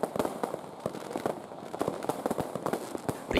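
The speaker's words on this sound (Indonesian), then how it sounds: "Pesta kembang api warnai pergantian tahun di Merauke," Rapid, irregular bursts of New Year fireworks over Merauke, Papua Selatan, crackle and pop in dense succession, loud and close, with no talking.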